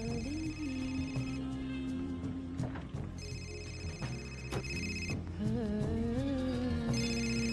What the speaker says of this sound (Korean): 전화 어디서 오는 거야?